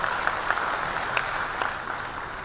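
Steady audience clapping at a panel discussion on social health, a dense even patter of many hands with a few sharper claps, filling the whole stretch with no voices over it.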